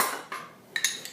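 A spoon scoops banana slices from a dish, giving a few light metallic clinks and scrapes of utensil against dishware, close and quiet.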